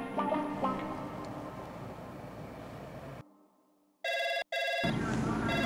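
A telephone bell rings in loud, close electronic bursts after a stretch of muffled background noise and a brief silence, with one short gap between rings.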